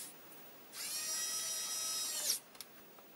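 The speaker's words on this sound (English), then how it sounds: "So now I will screw only some of the screws back in again" An electric screwdriver drives screws back into the plastic case of a Commodore C64, a single high whirring burst of about a second and a half, followed by a couple of small clicks in a quiet room.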